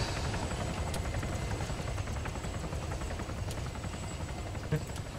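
An Arma 3 video game helicopter's steady whirring drone continues at moderate distance, with a few faint clicks over it.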